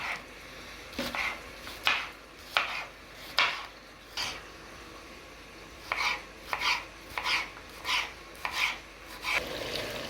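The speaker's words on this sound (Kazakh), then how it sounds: "болгар бұрышын турап аламыз." Knife chopping a bell pepper on a board, about a dozen crisp strokes in uneven bursts with short pauses, close and fairly loud, no talking.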